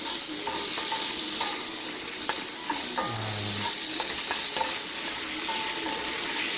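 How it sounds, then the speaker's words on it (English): Tofu scramble sizzles steadily in a seasoned frying pan, with scattered scrapes and taps of a utensil stirring through it over a constant broadband hiss. "start stirring it"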